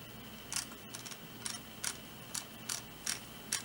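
Soft, quiet scroll-wheel clicks from a black Zowie EC2A mouse in short irregular bursts, close up but muted, with a faint steady hum underneath.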